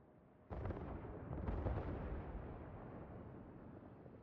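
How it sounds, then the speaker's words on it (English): A torpedo strike in the World of Warships naval battle game lands with a sudden deep boom, then a second blast a second later, followed by a long rumbling decay. "there was a torpedo strike on the Tirpitz"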